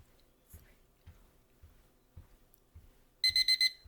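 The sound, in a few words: timer alarm going off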